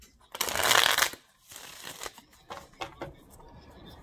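Tarot cards are shuffled in a quick riffling burst, followed by softer intermittent shuffling and slides, close and clear with no talking.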